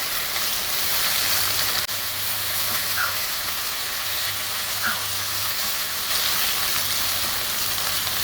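A ground spice paste for Kerala beef pepper roast fries in a pan, giving a loud, steady sizzling hiss with a faint low hum beneath and no talk.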